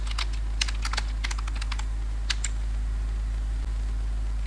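Keys clatter on a computer keyboard in quick irregular bursts, then stop, over a steady low electrical hum; no one speaks.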